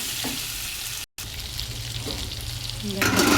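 Gravy poured into vegetables frying in a pan for a bitter gourd, potato and drumstick chorchori, giving a steady loud sizzle with a brief gap and a sharper hiss toward the end.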